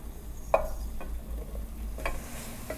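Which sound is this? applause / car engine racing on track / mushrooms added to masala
mushrooms added to masala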